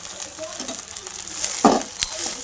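Fenugreek leaves being stirred and sautéed in oil in a pan, a soft sizzle with a few spoon scrapes and clanks against the pan.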